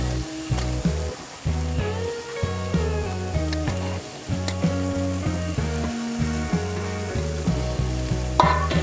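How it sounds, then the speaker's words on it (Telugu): Spices for tempering hit hot oil in a village kitchen where mashed potato kurma is being cooked, giving a steady close sizzle under a rhythmic melodic tune that runs throughout. "పోపు వేసుకుంటున్నా"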